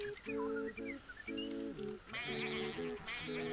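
Sheep bleat repeatedly in short, wavering cries in the video game Not GTA V, several overlapping at times, with brighter electronic game tones chiming in the second half.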